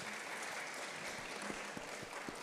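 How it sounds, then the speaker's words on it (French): Audience applause at a literary festival talk on the legacies of slavery, a steady wash of clapping from a seated crowd, fairly faint and even throughout with a few sharper claps standing out near the end. "On peut l'applaudir, oui."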